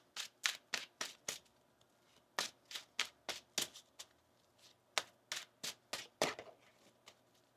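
A quick run of crisp tarot card riffles and slaps, about twenty sharp bursts in an uneven rhythm, close and fairly quiet with no talking.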